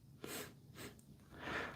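A single person sneezes, a quick sharp burst of breath that trails off into a short exhale, close to the microphone, with no talking.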